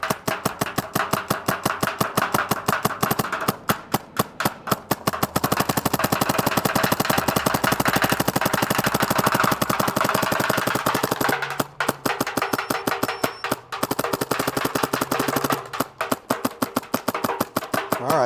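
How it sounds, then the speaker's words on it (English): A Dye MXR paintball marker fires paint in long rapid strings, a dense, loud, even rattle of shots nearly continuous through a full hopper with brief pauses, close to the listener and without talk. "we're just gonna go shoot some paint through it and show you guys it shooting"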